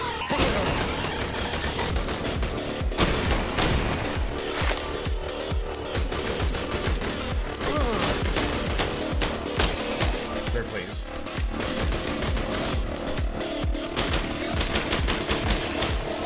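Gunfire in the video game I Am Your Beast rattles almost continuously as dense rapid shots and sharp bursts, loud and close, with a few heavier impacts mixed into the barrage.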